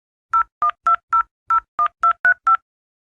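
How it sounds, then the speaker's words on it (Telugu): A telephone is dialed before placing a call in a Telugu short film: nine crisp, evenly spaced keypad tones ring out loud and clear, each a short beep, with no voices. "ముందు కాల్ చేయండి."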